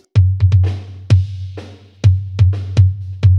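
A kick drum under extreme normal-phase EQ thuds with a boomy, resonant low end that rings on between beats, loud and alone in a loose rhythm.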